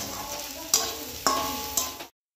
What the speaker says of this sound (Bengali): এখানে করছি হলো কোয়াশ ভাজা, কালো জিরে আর কাঁচা লঙ্কা ফোড়ন দিয়ে।